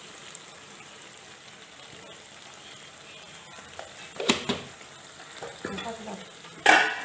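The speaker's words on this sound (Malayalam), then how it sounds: "ഇങ്ങനെ ഇളക്കി കൊടുക്കട്ടെ" A sizzling masala curry with curry leaves and coriander leaves, stirred in a pan: low steady frying hiss with a few spoon scrapes and clinks, louder near the end.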